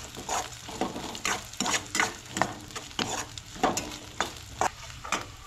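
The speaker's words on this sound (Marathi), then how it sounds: "तर मिरसांगो सुद्दां भाजून घेवया" Chillies being roasted in a pan for a Goan-style crab curry, a low sizzle under repeated rhythmic scraping strokes of a spatula, about two per second, close and fairly loud.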